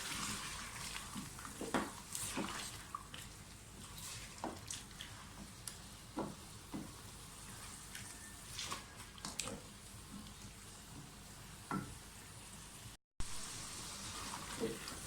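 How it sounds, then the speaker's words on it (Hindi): Finely chopped onion frying with chicken for a karahi, a soft steady sizzle with scattered crackles and light stirring scrapes, heard close and alone. "थोड़ी सी भुनाई करें"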